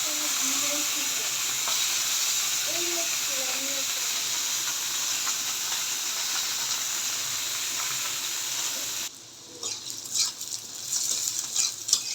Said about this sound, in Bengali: পেঁয়াজটা আমার ভাজা হয়ে গেছে